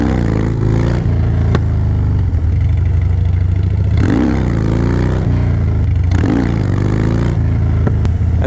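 A Harley motorcycle engine, with a chain drive and Shinko 777 tire, idles and revs at low RPM. It rumbles loudly and steadily, swelling briefly around four and six seconds, and no voice is heard.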